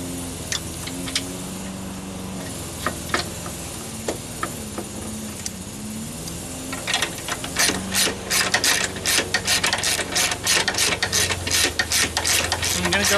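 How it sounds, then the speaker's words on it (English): A hand ratchet tightens the upper engine mount nuts on a 1999–2005 Pontiac Sunfire or Chevrolet Cavalier. A few scattered clicks give way to a fast, loud run of close ratcheting strokes. "Get these two nuts started."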